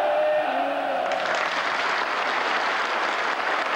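Thunderous applause and cheering from a large audience as a speaker takes the podium, a dense steady wash of clapping that stays loud and continuous throughout.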